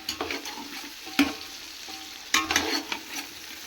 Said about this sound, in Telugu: దీన్ని కలిపి పెట్టుకుందాం ఫ్రెండ్స్